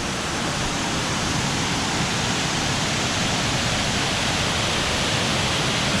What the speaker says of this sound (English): As you can probably hear off in the background, we are now arriving to Cascada.